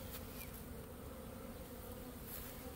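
A honey bee swarm of roughly ten pounds, a dense continuous buzzing hum heard close, steady in level, with a few individual bees flitting past.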